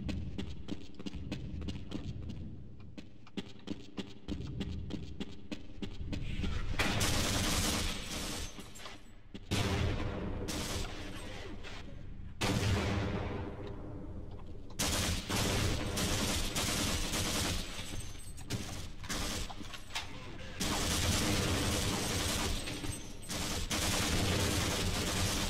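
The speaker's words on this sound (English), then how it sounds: "there is a tank shooting at us" Tank shooting in the video game Half-Life: Blue Shift, loud bursts of rapid gunfire that start and stop in long volleys separated by short gaps, with no talk over them.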